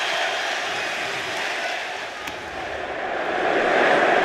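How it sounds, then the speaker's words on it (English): Crowd at the Intel Extreme Masters Sydney 2023 esports grand final, a broad wash of roaring cheers filling a large arena, loud and sustained, swelling toward the end without distinct voices. "we definitely have a crowd"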